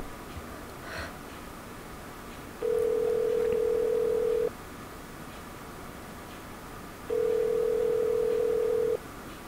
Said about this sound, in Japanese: 電話出てよ、